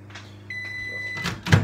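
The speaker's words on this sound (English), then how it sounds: "That's my timer." A kitchen timer sounds a steady electronic beep tone during partridge cooking, running continuously for about a second amid light kitchen clatter and a couple of louder knocks.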